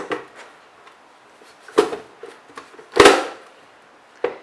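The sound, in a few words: Nicer Dicer vegetable chopper cutting an onion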